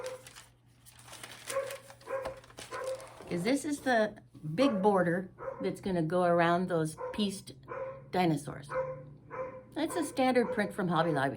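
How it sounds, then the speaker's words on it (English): A dog barks downstairs, somewhat muffled and off at a distance, popping up in intermittent bursts beneath steady nearby talk. "sorry about the dog barking"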